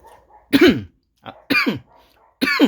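Sharp, loud sneezes from someone eating spicy chili-laden duck larb with neem shoots, three explosive bursts about a second apart with short breathy catches between them.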